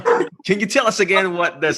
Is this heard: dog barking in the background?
yes